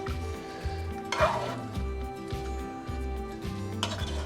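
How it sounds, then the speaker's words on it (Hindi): A spoon stirs moong lentils, chicken and potatoes in a metal pot for shaami kabab, giving close, repeated scraping strokes with light clinks against the pot and a faint bubbling underneath. "और इसे कर देंगे अच्छी तरह से मिक्स।"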